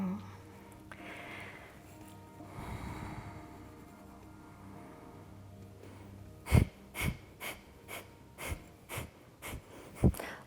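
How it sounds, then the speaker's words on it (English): Rapid Breath of Fire during a Kundalini yoga kriya, sharp staccato exhales forced through the nose in a quick run of about eight loud, evenly spaced puffs near the mic, following softer breathing. "strong Breath of Fire, sharp staccato exhales through the nose"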